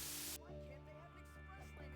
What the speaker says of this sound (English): Then when I spray over this tag